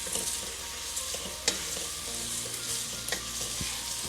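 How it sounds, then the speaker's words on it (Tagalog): Lomi ingredients fry and are stirred in a pan until browned, with a steady close sizzle and periodic scraping and clinking of the utensil. No voices are heard. "konting luto na lang para medyo mag-brown yung color niya"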